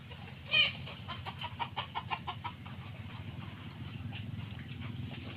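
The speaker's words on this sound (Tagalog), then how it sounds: "may mga alaga rin siyang mga manok" Chickens cluck nearby at a pig farm in Cuyo, Palawan, in short repeated bursts, with one louder squawk early on, over a low steady background hum.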